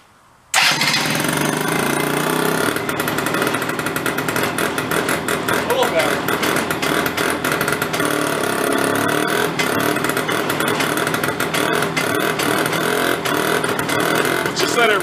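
A broken scooter engine starts after an air cleaner refit, then runs steadily near and loud with a rough, buzzing idle and slight fluctuations; a voice speaks faintly beneath it.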